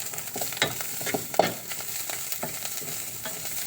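Garlic and eel stir-frying in a pan give a constant sizzle, broken by repeated scraping strokes of the stirring utensil, close and clear.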